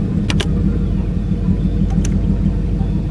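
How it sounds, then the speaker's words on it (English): A turbocharged Ford Thunderbird engine with a 3800 stall converter runs steadily and loudly up close, a constant rumbling drone through gear changes, with a couple of brief higher-pitched bursts layered over it. "we're rowing through the gears, getting the fluid going through the trans, and boys, we got gear engagement now"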